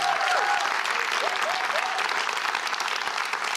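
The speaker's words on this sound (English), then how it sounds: "Can we give another round of applause for her?" An audience applauds a speaker at a women's success event, steady dense clapping from a crowd that continues evenly for a few seconds with a few faint voices mixed in.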